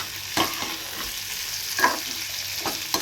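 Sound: egg and potato curry with spices frying and being stirred

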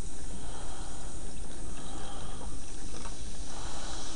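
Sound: liquid poured on rusty brake calipers, fizzing on contact

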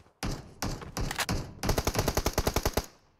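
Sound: gunfire from a bot in PUBG Mobile video game

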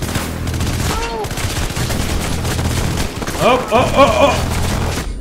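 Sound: SMG gunfire in the video game Hatred

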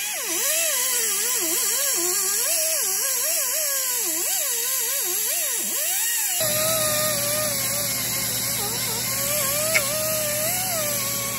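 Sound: angle grinder removing paint from tractor wheel

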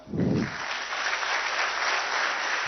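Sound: loud applause at a government job appointment ceremony

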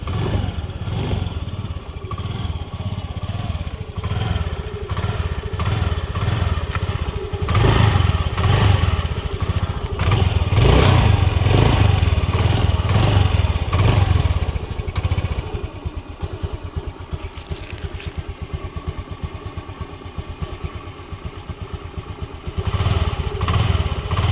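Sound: 2016 Honda Activa scooter engine running

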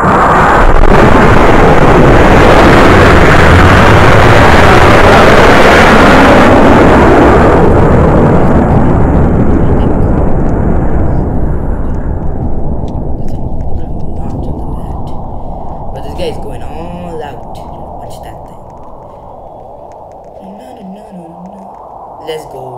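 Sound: rocket launching in Roblox video game

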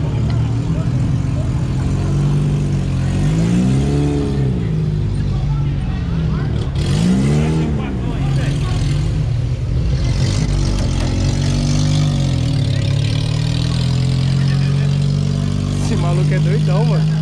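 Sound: car engine revving at a car show

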